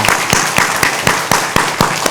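Steady clapping from a church congregation, with sharp individual claps standing out at a regular rhythm over a dense wash, fairly loud and close.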